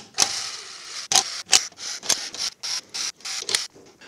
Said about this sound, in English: I'm just going to slowly back them out with my electric impact here